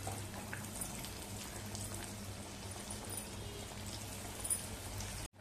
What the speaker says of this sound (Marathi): आता काढून घेऊया आणि आणखी वडे आपण अशाच तळून घेऊया